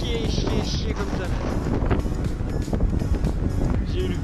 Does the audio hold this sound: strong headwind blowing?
yes